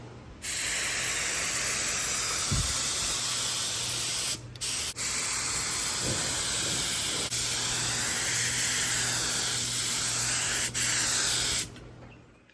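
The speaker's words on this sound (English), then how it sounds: "just getting ready to reduce it and put it in the gun and start spraying" Steady, loud hiss of a paint spray gun spraying reduced paint on a 1973 Ford Mustang Mach 1 under restoration, running almost continuously, with a couple of brief pauses between long passes.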